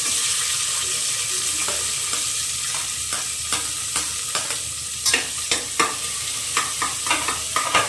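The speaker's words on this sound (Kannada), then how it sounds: "ಈರುಳ್ಳಿ ನೀಟಾಗಿ ಫ್ರೈ ಆಗಲಿ." Onion frying in hot oil inside a pressure cooker, a steady sizzle under a series of sharp scraping clicks as the pieces are stirred, growing busier toward the end.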